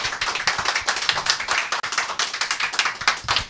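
A small gathered crowd claps in close, lively bursts, with individual hand claps distinct and rhythmic, swelling and dipping briefly before carrying on loudly to the end.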